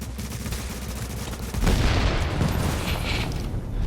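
Sniper rifle fire from a shooter game comes as a continuous loud crackle of gunfire that swells into a heavier, denser barrage halfway through, close and with no talking over it.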